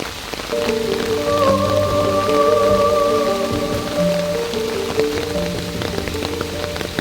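Steady rain falls across a botanic garden forest, a dense, continuous patter lasting throughout with sustained tonal sounds layered over it.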